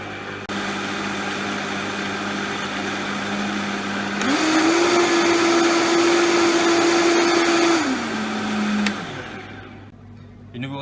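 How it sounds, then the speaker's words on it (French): A Vitamix blender on its turbo setting grinding ingredients, a loud steady motor whine that steps up in pitch partway through, holds, then drops back before stopping, close with no talk. "Vous avez une fonction turbo qui vous permet de bien broyer tous vos ingrédients"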